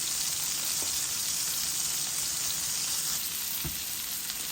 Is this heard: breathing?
no